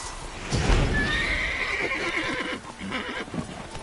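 A horse whinnies in a rising, drawn-out neigh over a busy, noisy background with hooves clip-clopping in the video game The Witcher 3: Wild Hunt; no speech.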